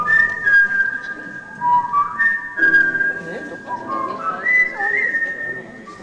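Whistling from a concert audience at a live show, a melodic tune carried by several wavering whistles rising and falling, fairly close and clear over a quiet background.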